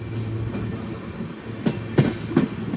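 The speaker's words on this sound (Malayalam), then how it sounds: "ഇവിടെ ഓൾറെഡി ഒരു ട്രെയിൻ വന്നിട്ടുണ്ട്" A train stands at Mathura railway station with a low steady rumble, followed by three sharp metallic clanks near the end, close and moderately loud, with no talking.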